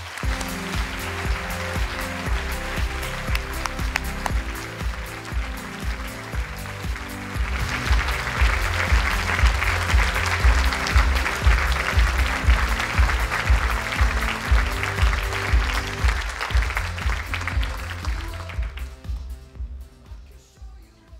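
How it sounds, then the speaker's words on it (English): A lecture audience at the UBC Connects series applauds to welcome speaker Jeremy Rifkin: dense, sustained clapping that swells after several seconds, holds strongly, then thins out and stops near the end. "Let's give him a round of applause."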